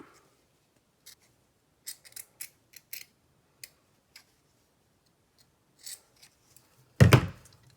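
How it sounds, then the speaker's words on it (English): Scissors snipping around the edge of felt for coasters: sparse, close, crisp cuts in small irregular clusters over a quiet room, ending with a louder rustling handling noise. "I'm going to just go ahead and trim all the way around my felt"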